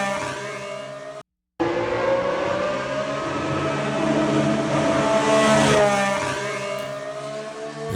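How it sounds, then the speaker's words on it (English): Loud, high-pitched whine of a Honda-powered Aston Martin Formula 1 car leaving the pits during preseason testing, the engine note rising and shifting through gears, with a brief break before it continues close by. "It's sounding good in that Honda engine."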